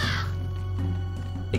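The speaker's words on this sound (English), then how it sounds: "Stupid bird." Harsh crow caws from The Vagrant video game ring out over a steady low game hum, a loud bird call at the start fading into background bustle.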